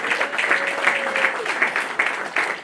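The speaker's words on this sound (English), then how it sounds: "Please give them another round of applause." Applause from an audience at a gala, a steady broad wash of clapping with some crowd murmur underneath, moderately loud and continuous throughout.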